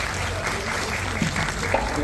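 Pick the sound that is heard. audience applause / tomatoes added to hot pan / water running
audience applause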